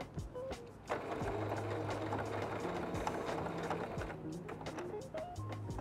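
A sewing machine stitching a batik cotton tote bag runs steadily at close range, its motor hum and needle rhythm continuing through most of the stretch with brief pauses and a few soft handling clicks.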